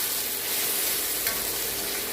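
Boiled soybeans stir-fry in a hot pan for a spicy young jackfruit dish, giving a loud, steady sizzle with a brief scrape of stirring partway through.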